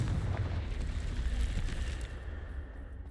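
A Confringo fire spell blasts in Hogwarts Legacy, giving a loud, sustained rumbling explosion with heavy low-end roar that slowly fades over a few seconds, with no talking over it.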